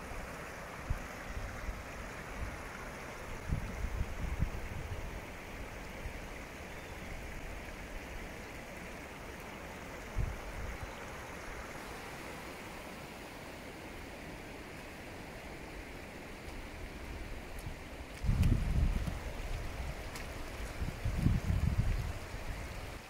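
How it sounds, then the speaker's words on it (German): Steady broadband rush of falling water from a waterfall fills the whole stretch, fairly constant and moderately distant, with a few heavier low thumps and surges breaking through near the end. "Schöner Wasserfall."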